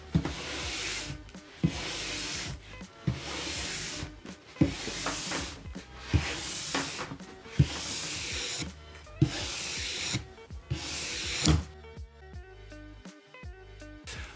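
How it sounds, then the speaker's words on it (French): A nylon brush is worked over a cross-country ski base to strip leftover wax and polish it, giving a run of about eight loud, rhythmic scrubbing strokes up close before a short different tail at the end. "on va pouvoir passer la brosse en nylon, ce qui va permettre de vraiment enlever tous les petits résidus de fard qui restent et de polir la semelle"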